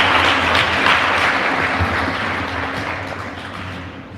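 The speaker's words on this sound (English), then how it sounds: "round of applause" Audience applause for impromptu speakers at an inter-secondary schools debate final, loud dense clapping that starts strong and gradually fades as the room quiets.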